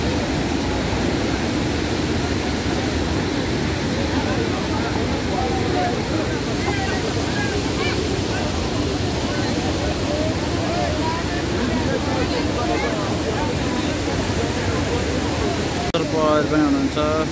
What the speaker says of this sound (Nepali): यहाँदेखि यत्रो बागमती खोला ठुलो आएको रहेछ अहिले